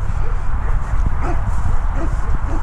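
A dog makes short yips and whimpering barks close by, in quick uneven bursts over a steady background rumble.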